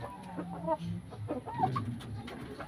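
A white mother hen bred on a game farm gives soft, close clucks and short murmuring calls, fairly faint, with light background noise.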